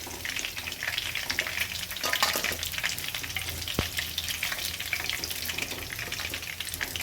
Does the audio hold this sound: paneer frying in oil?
yes